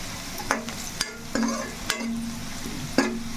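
Browned onion frying in a pan, a soft continuous sizzle broken by a few sharp spatula scrapes and taps against the pan.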